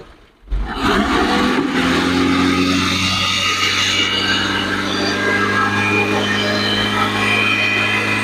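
A car with a burnt head gasket, low on coolant, revs up from idle after a brief quiet start, its engine drone loud and steady with a hum that stays present throughout.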